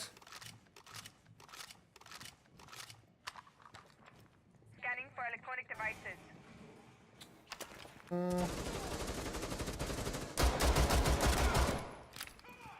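Rifle gunfire in Rainbow Six Siege, rapid bursts of shots early on, then denser loud firing and game effects toward the end, with someone talking over parts of it.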